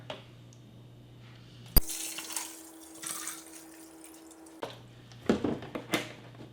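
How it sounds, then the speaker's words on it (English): Faint water trickling and dripping into a Keurig K-Supreme coffee maker's reservoir, with soft clicks and a low hum in the background, fairly quiet and close. "we're going to refill our water here"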